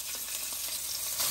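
Salmon skin fries in a pan of oil with black pepper and salt, giving a faint, steady close sizzle with small crackles.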